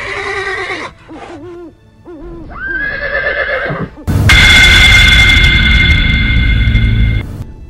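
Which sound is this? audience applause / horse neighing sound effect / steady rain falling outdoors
horse neighing sound effect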